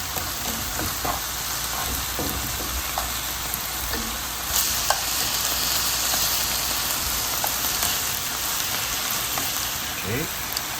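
Pork and vegetables for yakiniku pan-fry in a hot pan, a steady close crackling sizzle with occasional stirring scrapes and clicks throughout, and a faint voice now and then.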